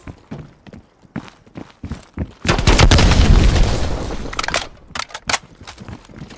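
Grenade explosion and gunfire in Call of Duty: Black Ops Cold War, with sharp shots and thuds leading into a loud sustained blast and rumble, followed by scattered further bangs.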